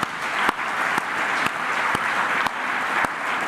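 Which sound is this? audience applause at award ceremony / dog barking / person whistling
audience applause at award ceremony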